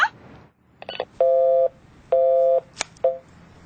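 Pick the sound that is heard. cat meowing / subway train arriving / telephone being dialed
telephone being dialed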